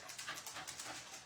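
A dog pants quickly and steadily somewhere in the room, a soft breathy rhythm with faint whimpering, heard quietly in the background.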